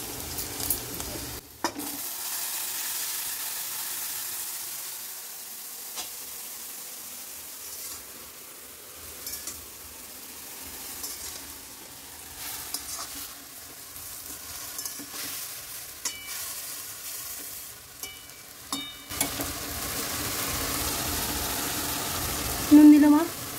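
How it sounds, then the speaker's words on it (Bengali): Greens being stirred and fried in a pan for a home-style dish, a steady sizzle with scraping stirs running throughout, moderately close, with brief speech in places. "একটু হালকা ভাজা ভাজা হলে ওই শাকগুলো ঢেলে দেবে"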